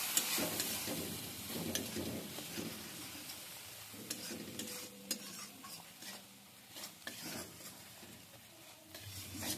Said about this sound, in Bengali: এবার দিয়ে দিচ্ছি বেটে রাখা মশলা, একটু হলুদ দিচ্ছি, মশলাটাকে খুব ভালো করে কষিয়ে নিচ্ছি।